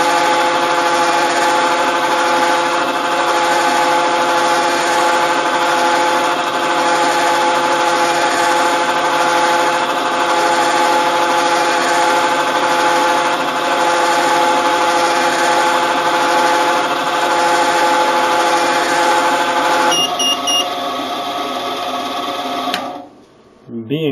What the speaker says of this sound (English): And we start milling